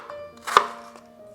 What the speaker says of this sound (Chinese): 切成小块儿。